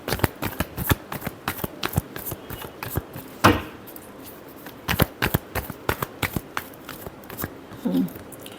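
Tarot cards shuffled during a love reading, giving a string of quick crisp riffling flicks and snaps, close and fairly quiet, with a brief soft voice near the end.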